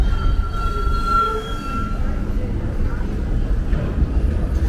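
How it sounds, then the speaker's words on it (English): A subway train rumbles into an elevated station on Avenue U in Gravesend, Brooklyn, with low continuous noise and faint high wheel squeals, voices murmuring in the background. "Looks like another train is pulling in."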